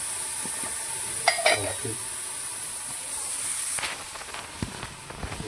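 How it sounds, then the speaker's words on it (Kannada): Food fries in oil with a steady, high sizzling hiss, broken by a few clinks and scrapes of stirring and a brief spoken word. "ಆಯಿಲ್ ಹಾಕಿದರೆ ಬೇಗ ಫ್ರೈ ಆಗುತ್ತೆ ಮತ್ತು ಚೆನ್ನಾಗಿ ಫ್ರೈ ಆಗುತ್ತೆ"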